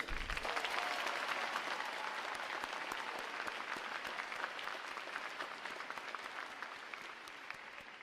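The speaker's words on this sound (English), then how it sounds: "How about a round of applause for our award winners?" A crowd claps steadily in sustained applause for award winners at a U.S. Navy boot camp graduation, dense and even, fading slightly over several seconds.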